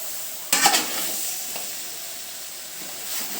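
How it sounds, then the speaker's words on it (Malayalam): Cleaned chicken is stirred and rubbed into masala in a pan, starting with a short burst of scraping and sizzling, then settling into a quiet, steady hiss with faint stirring. "ഇത് നമുക്ക് ഈ മസാലയിൽ നന്നായി തേച്ച് പിടിപ്പിക്കണം ഇളക്കി യോജിപ്പിക്കണം"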